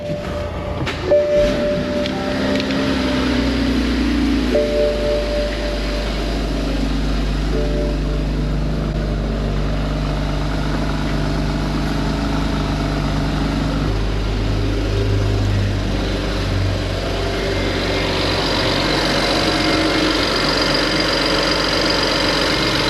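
A car engine cold-starting after sitting overnight, a vehicle reported to rattle and smoke at startup, then settling into a steady low idle that runs loud and continuous throughout, with an uneven start and some mechanical noise over the hum.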